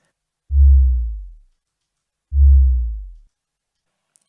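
A low sine-wave tone, added to a video game sound effect to fill out its bass, swells in twice as two separate deep hums. Each fades out over about a second, with near silence around them.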